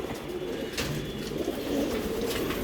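Racing pigeons coo softly in a loft in Mirpur, Dhaka, at bathing time, with steady low murmuring calls and faint rustling close by.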